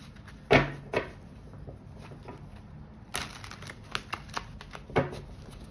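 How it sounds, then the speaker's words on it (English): Tarot cards are shuffled by hand in a few separate bursts of soft riffling and sharp slaps and taps, close and fairly quiet, with gaps of near silence between them. "Let me just give these a good shuffle."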